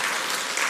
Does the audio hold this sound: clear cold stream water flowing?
no